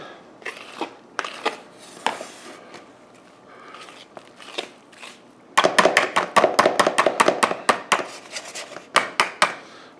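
A spoon stirs zucchini bread batter with applesauce in a bowl: scattered knocks at first, then a quick series of sharp, loud, rhythmic clacks against the bowl, close and with no talk.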